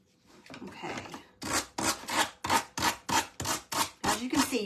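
A small sander grinds along the edges of a gingerbread craft kit piece in rapid, regular back-and-forth bursts, loud and close, with a brief rougher rubbing before the steady strokes begin.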